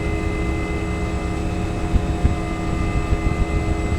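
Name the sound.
UH-1 helicopter starter in X-Plane 11 video game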